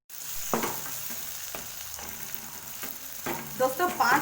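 Onion, garlic and tomato fry in a pan for kadai paneer masala, a continuous close sizzle broken by repeated scraping knocks of a spoon stirring, growing busier toward the end.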